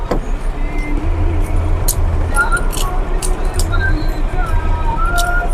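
A car idles and drives while a husband picks up his family, a continuous low rumbling engine under road noise, with a voice talking and brief clicks and squeaks over it.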